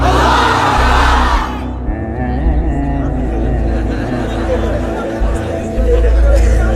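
A large crowd at a Bangla religious sermon roars back a takbir call in unison, a loud, sustained chant of many voices that carries for several seconds.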